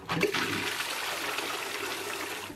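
A Geberit wall-hung toilet flushes with a sudden rush of water that settles into a steady, fairly loud gushing and draining, close by and without talk.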